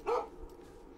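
A single short dog bark rings out in a horror video game, one sharp yelp near the start that quickly fades into quiet ambience.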